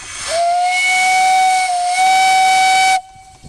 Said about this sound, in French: Le sifflet, bien sûr.